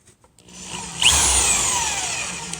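A power drill driving a screw into a metal stud: a few faint taps, then the motor starts with a whine that spins down slightly while the screw bites, close and alone.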